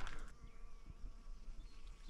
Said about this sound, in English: Bees are out.